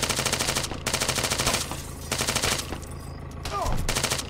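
Automatic gunfire in Arma 3 during a squad match, sustained rapid bursts of rifle fire broken by short pauses, loud and dense throughout with a brief voice near the end.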